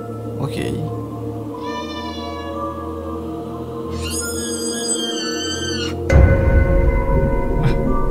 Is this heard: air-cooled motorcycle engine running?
no